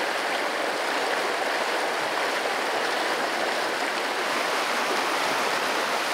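A creek in the Yukon wilderness rushes steadily and close by, a dense, unbroken wash of flowing water with no pauses or voices for the full stretch.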